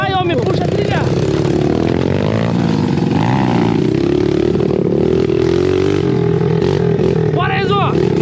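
A dirt bike revs and labours up a rough trail, its engine loud and constant up close, while riders shout to each other over it.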